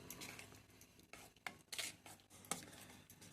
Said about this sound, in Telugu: ఇట్లా మంచి కలిపేసుకోండి.